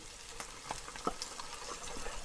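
Crushed tomatoes going into reddened frying onions in a pan for aloo bhuna, a soft hiss with scattered stirring clicks and scrapes, steady and close without talk.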